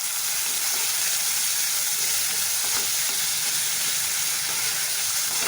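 Chopped tomatoes frying in a pan with spices while being stirred, a loud steady bright sizzle with hissing steam running continuously and no voices.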